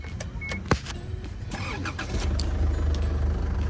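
An Isuzu D-Max pickup truck engine cranks with a sharp click, then catches and settles into a steady, loud idle rumble close by.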